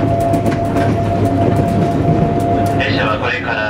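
A JR West 181 series Kani Kani Hamakaze express train running, steady rumbling rail noise with a constant low hum and faint clatter, close and continuous, with a brief squealing tone near the end.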